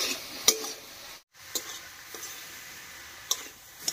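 A vegetable filling for savoury puli pitha is sautéed in a pan: a faint, soft sizzle broken by sharp utensil clicks and scrapes against the pan, with a brief silent gap early on.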